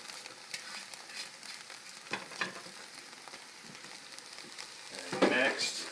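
Meat dumped from a colander into a pan of sautéing peppers and mushrooms for spaghetti squash, a steady frying sizzle with stirring clatter and a louder burst of hissing near the end.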